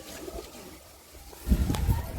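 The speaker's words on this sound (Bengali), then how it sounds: "এই দেখুন পায়রা" High-flying pigeons in a top-quality loft at Bagnan near Kolkata give soft low coos, faint at first and then louder and closer in the second half, with some background stirring.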